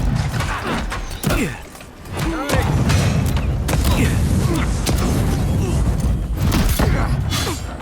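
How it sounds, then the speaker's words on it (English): Grenades explode in the fantasy game Avowed, several heavy booms and thuds amid loud combat clatter, with voices over the fighting. "Let's throw some grenades."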